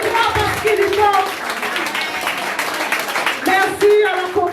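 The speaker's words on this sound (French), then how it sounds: "Applaudis le Seigneur ce matin." A church congregation claps during a morning service, with mixed voices and singing over uneven clapping that swells in short bursts.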